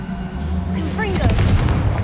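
Confringo fire spell in Hogwarts Legacy bursting with a booming blast, a whooshing, rising flare and crackling impacts, loud and close, with a voice calling out just before.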